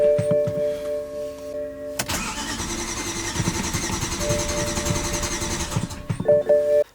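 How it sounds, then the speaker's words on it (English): A BMW E9X M3 engine cranks after a clutch change with a crank sensor fault, a loud whirring starter that runs for about four seconds and then cuts off, bracketed by chimes and clicks. "Let's see if it'll start up."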